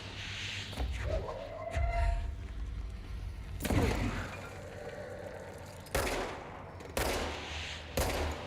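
Gunfire in the Indiana Jones video game: several sharp, loud shots and bursts crack out in irregular clusters over background game sounds, with no talking.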